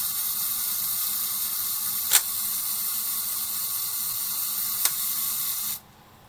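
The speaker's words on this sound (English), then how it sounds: "As the self timer is basically clockwork, you'll notice that it releases the camera shutter before it ends its travel." The clockwork self-timer of a Fed 4 rangefinder camera whirs steadily, with two sharp clicks along the way as the shutter releases, then stops abruptly near the end, close-miked and quiet otherwise.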